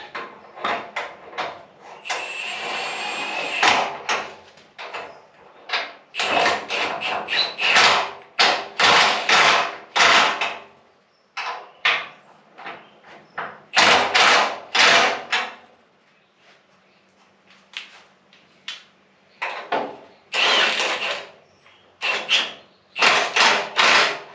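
A Snap-on impact gun tightening bolts on the freshly painted chassis of a 1956 Chevy windowed sedan delivery: repeated loud, close bursts of rattling hammering, several seconds each, separated by short pauses.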